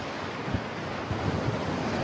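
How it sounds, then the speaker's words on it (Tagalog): Strong sea waves crash and surge along a shore in Brunei, a loud, steady roar of surf mixed with wind buffeting the microphone, with low thuds as the breakers hit. "Parang galit na galit yung dagat. Grabe. Ayan, oh. Malakas ang alon."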